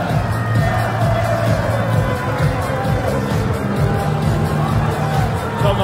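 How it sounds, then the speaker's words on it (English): A large darts crowd in Aberdeen at the 2014 Premier League of Darts cheers and roars steadily, dense and continuous, with voices blending into a broad wall of noise. "takes the applause of the crowd"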